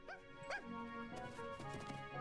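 A dog in an old TV show episode gives a couple of short, sharp barks, then a few softer whimpering yips, fairly quiet and close.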